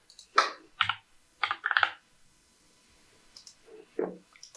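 Several separate bursts of clicking keystrokes on a computer keyboard, close and crisp, with a quiet pause in the middle before a few more taps.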